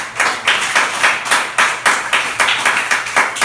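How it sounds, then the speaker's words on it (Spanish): A church congregation claps in a steady rhythmic beat, roughly three to four sharp claps per second, loud and close, with no talking over it. "Denle un aplauso a Cristo."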